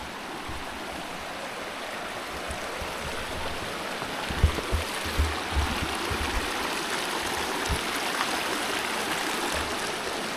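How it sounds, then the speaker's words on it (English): Cave Creek in the Pecos Wilderness rushes steadily into a cave, a close, continuous broadband wash of flowing water with a few soft low knocks midway and no voices. "And one of them, the creek actually flows into it."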